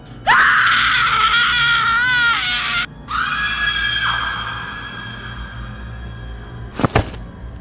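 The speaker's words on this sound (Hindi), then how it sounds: "तब जाके मेरी चीख निकली।" Woman's long, piercing scream of horror, loud and close, wavering for nearly three seconds, followed by a second sustained shriek that fades, then a sharp thud.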